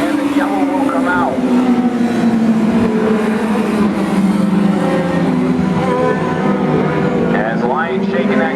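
Race car engine roaring steadily during a heat race at Brewerton Speedway, loud and continuous with rising and falling revs as the car circles the track, while an announcer talks over it.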